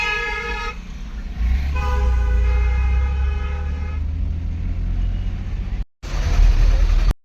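A train at Dhandari Kalan railway station near Ludhiana sounds a long, loud horn over a deep rumbling engine, the tones repeating in steady blasts against constant low noise, heard without talking.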